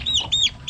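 Newly hatched chicks on a farm give a few high, thin peeping chirps close by, with faint low background noise between the calls.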